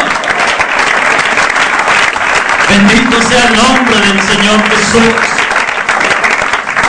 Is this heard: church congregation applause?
yes